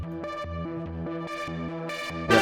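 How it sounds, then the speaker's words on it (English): Tubular bells synth patch in an emotional bass music production rings out in bright, bell-like tones over a pulsing low synth pattern, clear and prominent, with a brighter swell right at the end and no talking. "Tubular bells."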